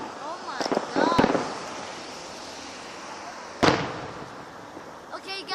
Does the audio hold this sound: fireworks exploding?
yes